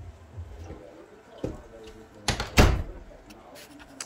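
The front door of a house thuds shut with a sharp knock and a rattle during a walkthrough, after a few fainter clicks. A person talks quietly in the background.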